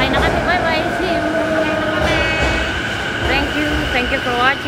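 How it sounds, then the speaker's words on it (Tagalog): A train pulls into a station in the Kita-Senju area of Tokyo, its steady rumble and rising and falling tonal whine filling the scene close by, while people talk over it. "Ayan na ng tren, sakay na kami."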